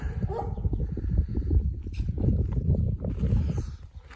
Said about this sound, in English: Someone's not happy about our presence here.